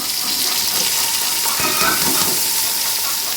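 Onions go into hot oil in a pan after okra has been fried, giving a steady, loud broadband sizzle that holds evenly throughout with no talking.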